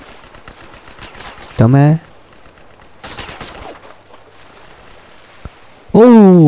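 Gunfire in Grand Theft Auto: San Andreas, scattered sharp shots and short bursts between louder tonal voice exclamations, with a brief spoken word in the clip.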